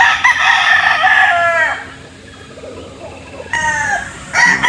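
A super white rooster crows on a farm in Tanawan, Batangas, two loud, close crows with a quiet pause between them and faint background sounds.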